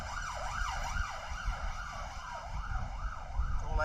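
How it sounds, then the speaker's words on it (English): A wailing siren sweeps up and down steadily at a cricket club ground during an over-50s match, sounding from some distance behind, over a low rumble of traffic, with no talk. "There's police sirens behind us."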